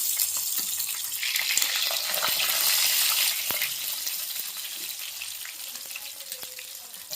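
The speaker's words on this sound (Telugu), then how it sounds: "మీడియం ఫ్లేమ్ మీద ఫ్రై చేద్దాము." Fish pieces fry in a pan over a medium flame, a steady close crackle and sizzle with scattered sharper pops throughout, no talk.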